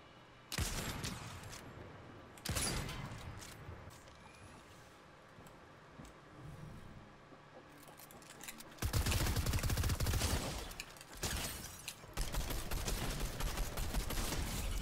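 Video game gunfire in Fortnite: bursts of rapid automatic fire and single shots, with a loud burst near the start, another around the second mark, then sustained dense firing through the last third.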